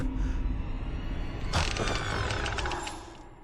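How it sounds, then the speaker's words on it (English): A door creaks open in the horror game Identity V, a sharp creaking onset midway over a steady dark ambient bed, ringing with metallic, ratchet-like overtones before fading. "The door is open."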